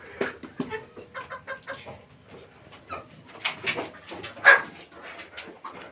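A backyard flock of about sixty young chickens raised for a small poultry business clucks and chirps in a busy, overlapping chatter, with sharper calls rising now and then at moderate distance.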